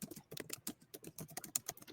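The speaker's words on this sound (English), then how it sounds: "I hear Ed typing." Computer keyboard typing during an online panel discussion, rapid irregular clicks of keys, close and fairly quiet with no talk over it.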